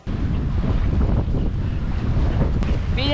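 Strong wind buffets the microphone over rushing water and waves, a steady loud roar out on a sailboat at sea, with a faint voice at the end.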